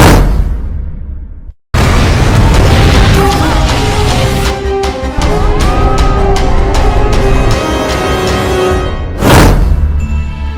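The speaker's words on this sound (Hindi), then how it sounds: "भाई मार्केट में बम ब्लास्ट हो गया है।" Loud bomb blast in a market: after a brief cutoff, a heavy explosion erupts and rolls into a long, dense roar of debris and rumble, with a second sharp burst near the end.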